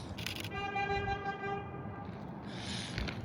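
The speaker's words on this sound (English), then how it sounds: "People are honking and stuff." Car horns honk on a city street over steady traffic rumble, one long sustained blare followed by a fainter second honk, heard from a short distance.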